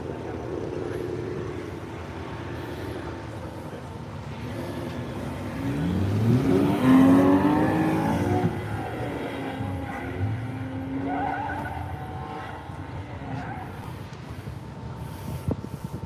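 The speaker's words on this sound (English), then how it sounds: "So there goes Katie out onto the skid pad" A car drives out onto a wet skid pad at a roving event, its engine rising to a loud, near revving surge mid-clip with faint tire hiss, then fading and receding as background engine noise continues.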